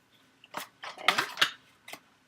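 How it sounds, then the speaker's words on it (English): A spoon stirs vanilla extract into oatmeal cookie batter in a bowl, giving a few close scraping and clinking strokes with short pauses between them. "Stir it up. Stir the vanilla."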